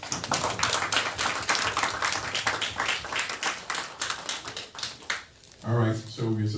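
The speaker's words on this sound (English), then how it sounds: "I think we should give Ebony a round of applause" Audience applause after a film screening and discussion, a brisk run of individual claps close by that thins and fades out before a voice begins speaking.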